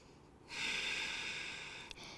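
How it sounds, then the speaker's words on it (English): A person breathes slowly and steadily during a guided stretching and meditation session: one long, soft, airy breath, close and faint, with no talking. "Steady breathing."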